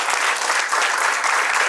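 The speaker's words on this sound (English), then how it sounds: "I want to have a little bigger claps, the louder one." A conference audience applauds together, a dense, loud, sustained wash of many hands clapping at once, even in level from start to finish, with no talking over it.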